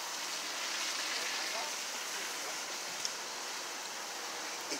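Steady rain falling outdoors, a continuous even hiss of drops at moderate level with no break, a faint tap or two standing out.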